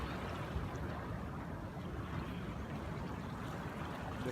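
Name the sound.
waves at Sindhu Beach, Sanur, Bali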